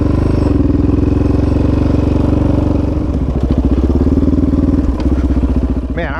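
A Yamaha Raptor 700 ATV rides at night, its engine loud and close with a steady throbbing rumble that shifts into a choppier, pulsing note partway through.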